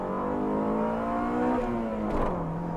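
A Honda Civic engine revs steadily upward with rising harmonic tones, then shifts character near the end as VTEC engages above 4,500 rpm and the pitch climbs sharply before settling.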